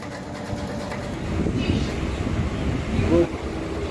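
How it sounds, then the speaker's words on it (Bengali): A local passenger train rides from Bishalpara toward Bongaon, giving a continuous low rumbling carriage drone with faint muffled voices in the background. "তো বন্ধুরা আমরা কিন্তু ট্রেনে উঠে পড়লাম"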